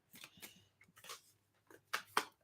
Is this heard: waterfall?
no